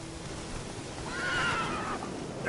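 Roach, a horse in The Witcher 3: Wild Hunt, gives a clear whinny over a steady background of hoofbeats and ambient game noise.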